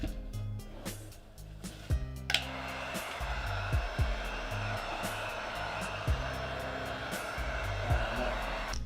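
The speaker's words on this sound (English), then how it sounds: "I'm gonna blow dry it" A heat gun blows steadily to dry cherry red paint on Jordan Retro 1 sneakers, a loud continuous whooshing hum close up with a few faint knocks and handling sounds throughout.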